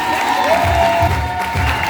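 Brief stretch of a worship congregation clapping and cheering to acclaim the Lord, a loud, dense crowd roar with pulsing low thumps underneath.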